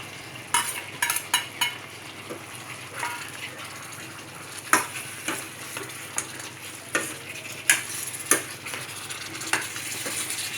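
Chili and turmeric powder being stirred into frying chicken curry, with a steady sizzle beneath repeated sharp scrapes and clicks of a spoon against the pan, close and fairly loud throughout.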